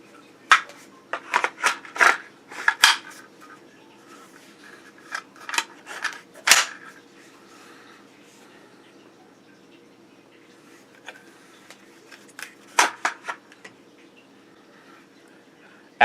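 A gun's lever pulled back to drop the magazine, heard as a series of sharp metallic clicks and clacks spaced irregularly against a quiet background.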